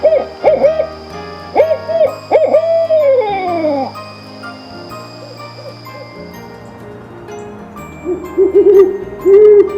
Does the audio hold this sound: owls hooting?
yes